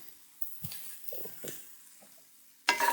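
Mushrooms sautéing in a pan, with faint sizzling and a few soft stirring scrapes and clinks, quiet overall with a louder clatter at the end.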